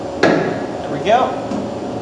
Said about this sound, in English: It's time for the mallet.